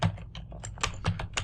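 Typing on a computer keyboard, with a run of close, distinct keystrokes in an uneven rhythm, heard alone with no talk.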